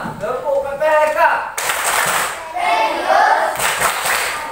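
Children perform a rhythmic clapping chant at a morning school gathering in Indonesia, with sharp clusters of claps in a steady pattern mixed with chanted voices, fairly loud and close throughout.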